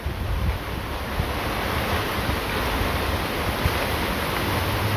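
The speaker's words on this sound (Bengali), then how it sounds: "বৃষ্টি নেমে পড়ছে" Rain begins falling outdoors near coconut trees, a dense, steady wash of hissing noise with a low rumble, continuous and fairly loud throughout.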